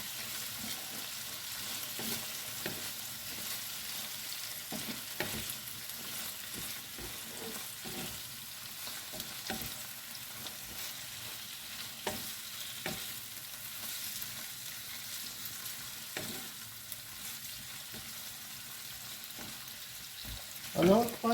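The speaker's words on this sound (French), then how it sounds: "Ajoutez les crevettes tout en réservant leur marinade. Poursuivez la cuisson 3 à 4 minutes." Shrimp sauté with bell peppers in a honey and ginger glaze, a continuous close frying hiss with scattered clicks and scrapes of a utensil stirring through the pan.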